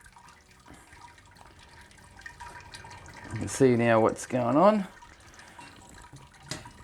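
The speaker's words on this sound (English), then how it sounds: "So now it's pretty much clear water coming out at the bottom" Sparge water trickling and draining through a grain filter basket during IPA brewing, a soft steady dribble running beneath someone speaking, with a few faint drips.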